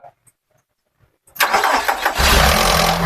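A 2004 Nissan X-Trail ST with a 2500 cc engine starts after a near-silent pause. A brief crank catches at once into a loud, steady, full-throated idle recorded up close.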